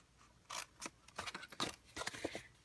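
Scissors snipping through cardstock while making a paper treat holder: a series of crisp, close cuts in irregular bursts, some quick double snips, with no talking.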